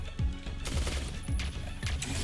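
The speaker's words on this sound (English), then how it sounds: "Laser attack!" Laser weapon bursts in the top-down shooter Neon Chrome, three sharp zapping pulses spaced about a second apart over a busy, steady game background.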